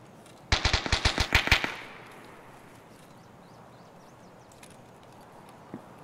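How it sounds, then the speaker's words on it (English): A rapid burst of automatic gunfire in the video game Escape from Tarkov, about a dozen sharp shots in quick succession that fade into a quiet ambient outdoor background with a faint later pop. "Somebody's shooting over here."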